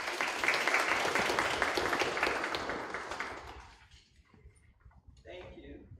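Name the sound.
round of applause for board members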